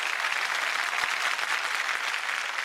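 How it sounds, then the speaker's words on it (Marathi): Studio audience applauding a band on a Marathi television singing competition: a dense, even burst of clapping that holds steady throughout, with no talking over it. "मंडळाच्या बँडसाठी जोरदार टाळ्या"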